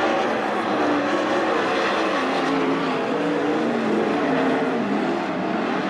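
410 sprint cars race at Attica Raceway Park, a dense, loud, continuous engine roar from a pack of cars filling the whole stretch without a break.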